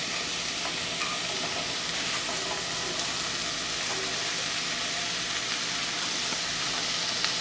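Celery sautés in a hot pan with a steady, loud sizzle and fine crackling hiss that runs evenly throughout, with no talking.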